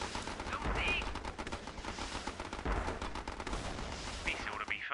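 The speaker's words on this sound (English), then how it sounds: "I'm going to try to hit all the infantry he's gonna put out with this naval gun." Repeated firing and booms from a naval gun aimed at infantry in Battle Islands Commanders, a steady dense stream of loud blasts over battle noise, with faint voices in the mix.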